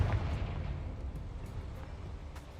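A Confringo fire spell blast in Hogwarts Legacy hits with a booming burst at the start, then fades into a rumbling, crackling tail over a couple of seconds.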